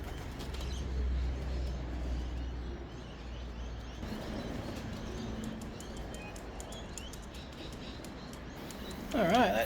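Racing pigeons coo softly and chirp around a loft at an Australian race, with brief flapping, under intermittent talk and a louder burst near the end.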